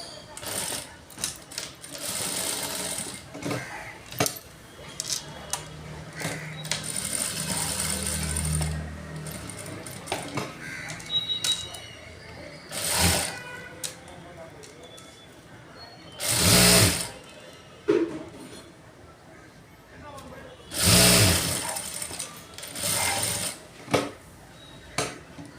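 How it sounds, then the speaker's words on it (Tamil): A sewing machine stitches lining fabric for a blouse, running in bursts of rapid mechanical clatter broken by pauses and louder clunks as the machine is handled. The sound is close and plays alone. "லைன் துணிகளுக்கு மடித்து உள்ள தைக்கிட்டு தை போடுங்க."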